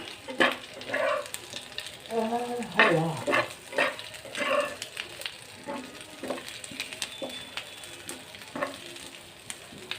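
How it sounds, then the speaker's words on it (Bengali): Oil sizzles and crackles steadily as a blended paste fries on low heat, with intermittent stirring scrapes and clatters in a pan close by. "তো এই যে আমি ভেজে নিচ্ছি দেখুন চুলার আঁচটা কমিয়ে"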